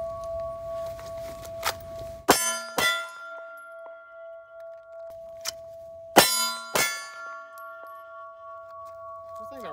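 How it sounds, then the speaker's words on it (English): A CZ P10c pistol is fired at steel targets about 12 feet away, giving two pairs of sharp bangs, each followed by a long bright metallic ring that decays slowly, with faint talk between shots. "Things are ringing. Shit, they're loud."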